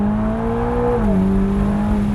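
A Ferrari with rear-wheel drive pulls away in first gear from a standstill, its engine holding a steady, loud, close droning note that dips slightly in pitch midway as it builds speed, with no talk over it.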